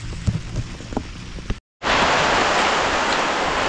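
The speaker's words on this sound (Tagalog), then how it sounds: "ngayon inabot na nga tayo ng ulan" Rain pours over a tomato field in the countryside, a dense, loud, hissing wash that starts abruptly after a brief gap and continues steadily, with scattered knocks before it.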